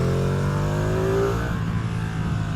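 A Ducati Streetfighter V2 motorcycle engine on a mountain ride sings close and loud at steady revs, then eases off while wind noise roars throughout; no voices.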